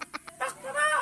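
A person's voice imitates a rooster crowing, starting with a few short clucking bursts and then drawing out into a longer, rising crow, close and fairly loud.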